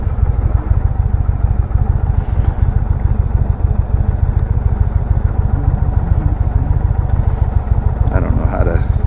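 A 2019 Indian Chieftain Dark Horse motorcycle engine rumbles loud and steady throughout a ride in sport mode, a continuous low throbbing drone with wind noise and no talking.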